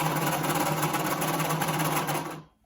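A sewing machine stitching a cloth face mask runs in a steady, fast mechanical whir for about two seconds, then stops abruptly.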